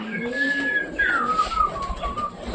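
Pet pigeons, including high-flying and racer birds, coo close by before feeding, a low soft cooing mixed with a higher whistling bird call over faint background noise.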